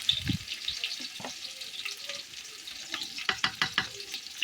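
Chopped onion fries in a pan on a clay stove with a continuous crackling sizzle, broken by several sharp stirring scrapes and clicks toward the end.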